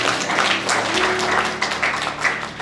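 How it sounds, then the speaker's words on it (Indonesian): A church congregation claps during an Ascension Day worship service at GBI EOM, a loud mass of hands sounding over sustained tones and faint voices, fading unevenly toward the end. "Tepuk tangan dulu Tuhan."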